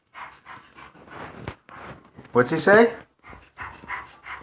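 A young child imitates a puppy panting with a few short, breathy huffs, close to the mic, between an adult's spoken questions.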